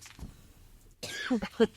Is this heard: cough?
yes